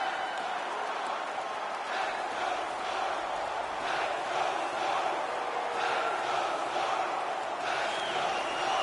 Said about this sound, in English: The home crowd jumps to their feet.